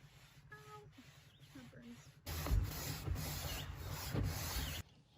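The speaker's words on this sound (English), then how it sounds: "I'm going to apply it to a microfiber cloth, clean up just around the edges right here" A microfiber cloth wet with lacquer thinner is rubbed along the edges of a van bunk window, a close, steady scrubbing swish after a quieter start with faint handling noises.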